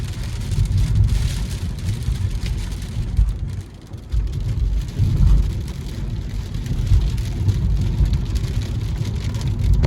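Light misty rain patters on a car while the engine rumbles low inside the cabin, a steady muffled hiss with a brief dip partway through.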